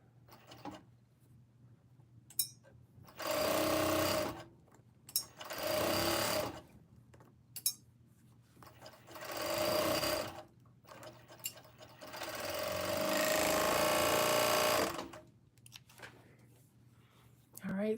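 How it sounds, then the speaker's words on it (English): A serger stitches a backless t-shirt in several quick bursts of rapid mechanical whirring, each a second or few long, separated by quiet pauses with small handling clicks, nearby. "Something that I can sew real quick using my serger."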